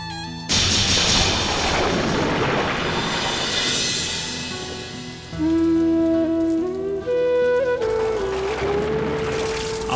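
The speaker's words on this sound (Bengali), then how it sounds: "বৃষ্টি পড়ছে" Rain falls at night, a dense, loud hiss of drops on surfaces that runs throughout while a sustained musical tone rises underneath in the second half.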